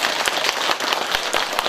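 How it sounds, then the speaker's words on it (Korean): Audience at a Buddhist temple talk giving a round of applause, dense steady clapping from many hands filling the whole moment at close range. "큰 박수 한번 주세요"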